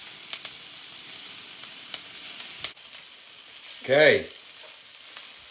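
Hosta buds fry in a pan with a steady broadband sizzle, a few light scrapes of stirring early on, and a short brighter sputter near the end; a brief spoken word is heard.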